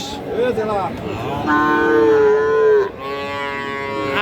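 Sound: cattle mooing at livestock market

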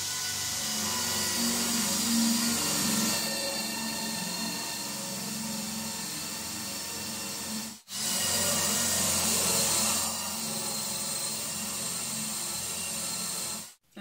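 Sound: drilling two holes in wood for guitar stand dowels

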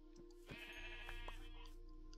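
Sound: sheep bleating in a video game (Minecraft)

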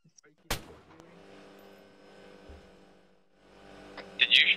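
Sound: gunshots in the video game ArmA 3

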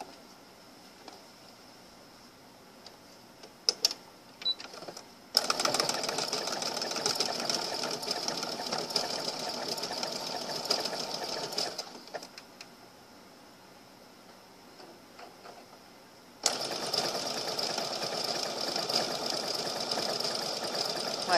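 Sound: sewing machine doing an overlock stitch

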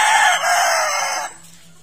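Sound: brood cock rooster crowing

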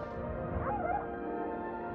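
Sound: dog whimpering in a movie scene

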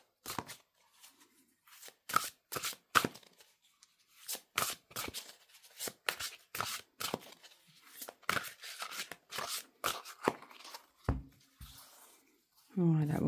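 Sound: shuffling large oracle cards

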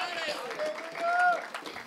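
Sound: applause and hand clapping in church

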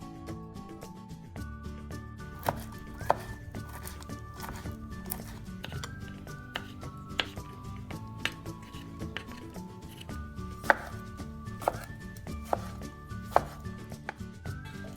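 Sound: chopping ingredients with knife

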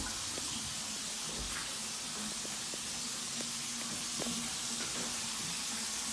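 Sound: bathtub faucet running water

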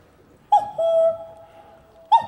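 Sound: person imitating a cuckoo call

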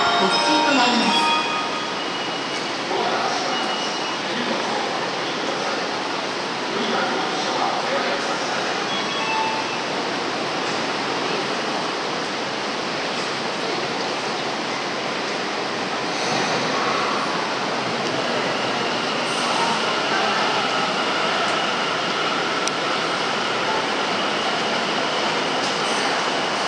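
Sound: Tokyo subway train running, Tokyu Toyoko line F Liner

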